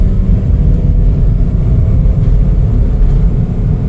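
Steady low engine and road rumble from a 2017 Chevrolet City Express LS cargo van on the move, a constant loud drone with no talking.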